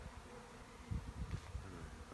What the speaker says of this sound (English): Because I heard this weird hum, and then I saw you standing here. We caught a swarm yesterday, so this is a really big swarm.